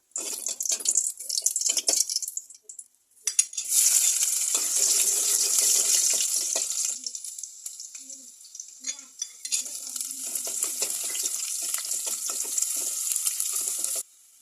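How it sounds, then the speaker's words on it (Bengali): Dried chili, garlic and onion tempering for boiled lentils (dal), a steady hissing sizzle in a pan with bursts of stirring and clattering, loud and close, with a short pause near the start. "ডালটা সেদ্ধ হয়ে গেছে এখন আমি ডালটাকে ফোড়ন দিয়ে দেবো"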